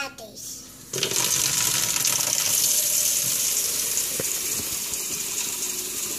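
Tap water runs steadily into containers being filled at home, a continuous broadband splash that jumps louder after the first second and stays fairly close, with a voice and an adult's faintly present.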